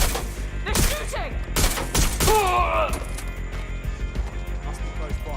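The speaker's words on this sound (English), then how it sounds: "They're shooting!" Gunfire in Watch Dogs Legion: a quick series of loud, cracking shots in the first few seconds, with voices shouting and talking around them before the sound settles into a quieter background.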